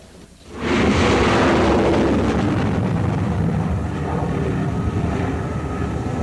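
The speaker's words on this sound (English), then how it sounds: "There goes an F-18 Hornet off the deck of the Nimitz" An F-18 Hornet jet launches off the deck of the aircraft carrier Nimitz at sea, a sudden loud roar swelling in after a brief quiet moment and holding as a sustained, broadband jet-engine rush.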